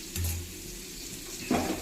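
Food frying in a pan while biryani is cooked at home, a steady soft sizzle with a couple of brief stirring scrapes, near and alone with no talking.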